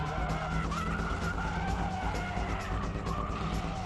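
A car drifts under braking with its tyres skidding, a loud continuous rubbery screech over engine roar, close and sustained without talk.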